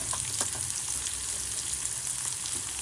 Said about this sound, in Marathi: मसाल्यामध्ये आपला कांदा फ्राय होतोय